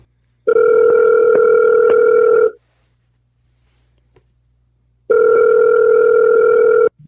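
Outgoing telephone call ringing out, two long loud electronic ring tones separated by a pause of near silence, close and clean with no talking.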